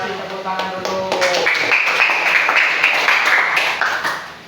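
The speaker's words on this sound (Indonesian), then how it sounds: "Kasih tepuk tangan dulu." Students in an Islamic religious education classroom clap briefly, a short burst of hand claps over chatter and voices, loud and close.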